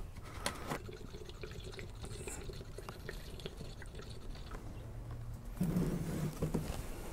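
Castrol Magnatec engine oil poured into a glass jar, a soft liquid trickle and drip running steadily at low level, growing a little fuller toward the end.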